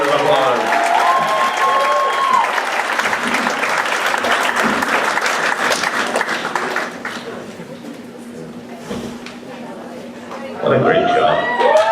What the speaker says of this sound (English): give Derek a nice round of applause